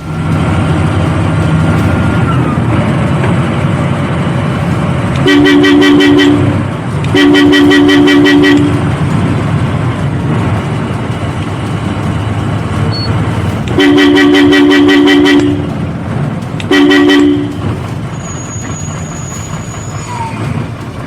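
A loud, blaring private bus horn honks in four long blasts, two close together, then a pause and two more, over a constant rumble of road traffic in Malappuram.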